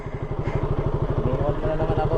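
A motorcycle engine idles close by with a fast, regular low-pitched putter, and people talk over it throughout.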